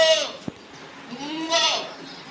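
A couple of goats bleat nearby, one call at the start and another a second later, with a sharp tap in between.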